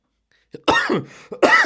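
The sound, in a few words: coughing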